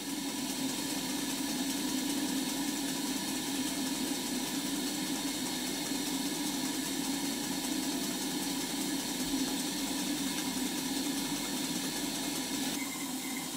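A model steam engine runs on a test plant fed by a six-inch-diameter boiler, making a continuous, even mechanical hum and whir with no breaks, at moderate level and with no talking.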